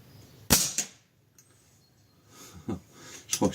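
Snowpeak PP750 5.5 mm PCP air rifle fired outdoors: a sharp, close crack, a brief lull, then two more quick snaps near the end, with faint breathing in between.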